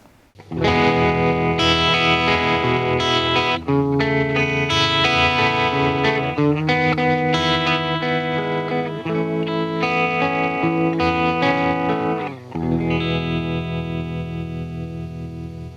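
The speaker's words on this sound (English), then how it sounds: "what you get is this extremely lush, round, soft, nice tremolo sound" Lush, round, soft tremolo from a UAD Astro Modulation Machine, pulsing smoothly over sustained, reverb-washed guitar chords that ring out loud and steady, with a brief dip before a final chord swells and decays.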